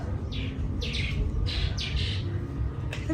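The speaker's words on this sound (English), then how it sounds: "The birds up here." Birds outdoors in Coronado, Panama give a series of bright, raspy squawking chirps in quick pairs, fairly close and loud over a low steady background hum.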